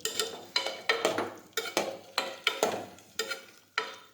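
A pot of cluster bean curry stirred again, giving about ten distinct scraping sweeps of a spoon against the metal in a fairly regular rhythm, close and moderately loud, with no voices.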